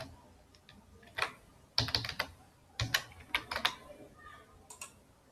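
Keys clatter on a computer keyboard in short bursts of quick taps with gaps between, as an email and password are typed, close and fairly quiet.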